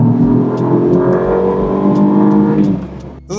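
A BMW X2 sDrive16i M Sport engine revs up to about 4,000 rpm in boost mode, a steady, loud, close-up harmonic drone with rising pitch that holds, then briefly dips near the end.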